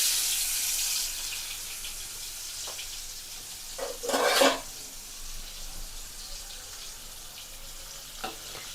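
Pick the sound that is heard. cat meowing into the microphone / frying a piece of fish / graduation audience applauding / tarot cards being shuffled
frying a piece of fish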